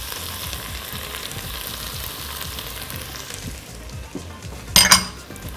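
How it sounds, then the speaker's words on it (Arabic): Broth poured into a pot of sizzling vegetables for minestrone soup, a steady close frying hiss running throughout before a brief loud splash and surge near the end. "هنزل بقى دلوقتي المرقه"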